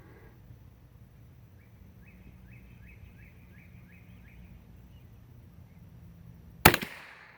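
A single sharp, loud report from a Stevens Model 55 rifle near the end, with a short decay, after a quiet stretch with faint bird chirps in the background.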